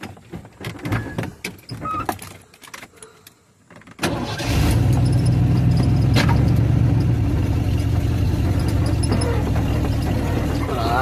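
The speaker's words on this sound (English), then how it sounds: "Idle out into the road with this truck." A truck engine starts and runs at a steady, loud idle close by, a continuous low rumble after some cab clatter and handling noises at the start.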